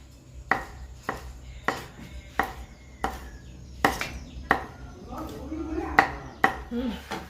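Steady knife chops on a board, about a dozen evenly spaced cuts, close by, with a voice speaking quietly underneath.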